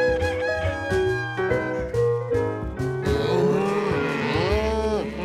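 Cows moo in long, drawn-out calls over a busy farmyard backdrop, with other animal cries mixing in.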